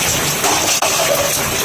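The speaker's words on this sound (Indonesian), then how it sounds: "Cuacanya hujan terus" Steady rain falls in a dense, even patter, with a continuous wash of drops throughout and a brief dip partway through.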